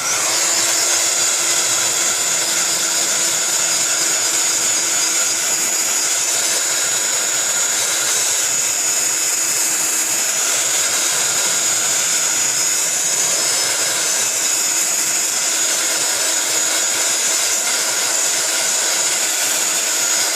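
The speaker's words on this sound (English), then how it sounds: "I'm going to run it through a heat tool so just to dry it a little bit quicker" A heat tool blows steadily and loudly throughout, a continuous whooshing hiss as it dries acrylic paint on a handmade Christmas card, with no talking.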